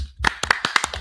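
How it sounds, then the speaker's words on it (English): A handful of sharp, close hand claps from a few people on a live podcast, sparse and uneven over a single second. "can we just give a round of applause to me"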